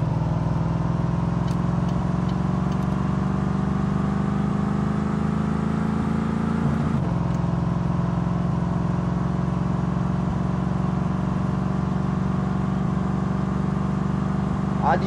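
Steady car engine hum from My Summer Car, a driving game, running continuously at a constant drone with a brief shift midway, loud and close throughout.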